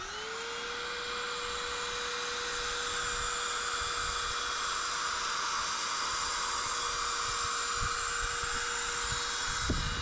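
A vacuum cleaner drones steadily and loudly nearby, with a constant high whine over rumbling airflow throughout.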